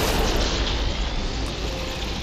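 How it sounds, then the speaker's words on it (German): A machine blows apart in Horizon Forbidden West, a loud, sustained roaring blast of broadband rumble that fills the moment without fading much. "Ist im wahrsten Sinne des Wortes explodiert"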